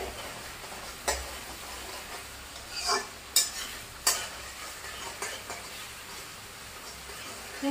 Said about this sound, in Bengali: তো টমেটোটাকে একটু এইভাবে একটু নাড়িয়ে দিতে হবে।